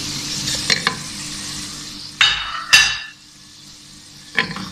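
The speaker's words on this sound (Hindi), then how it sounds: "और सिवैयों को थोड़ा सा फ्राई कर लेते हैं।" Vermicelli (seviyan) stirred and fried in a pan for sheer khurma, with a low steady sizzle broken by a few scraping, clattering strokes of a spoon against the pan.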